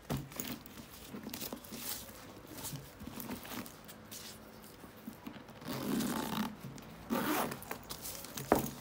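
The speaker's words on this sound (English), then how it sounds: "Zipper is smooth." Zipper on a leather Louis Vuitton Tuileries tote bag (M44328) being run open and closed, several smooth rasping pulls close up between soft handling rustles and crinkles, no voices.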